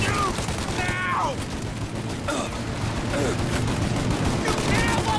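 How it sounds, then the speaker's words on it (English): Bursts of gunfire crackle through a shootout in the Mafia video game, rapid shots scattered across the scene while shouting voices carry over a steady background rumble. "Shoot out their gun when there's a break in the fire!"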